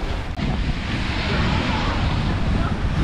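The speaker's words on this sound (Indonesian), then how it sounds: "Bukan ribut sangatlah, angin yang sangat-sangat kuat." Strong, steady wind buffets the microphone on Lake Kenyir during a kayak expedition, a dense continuous roar with water wash beneath it that holds loud and unbroken throughout.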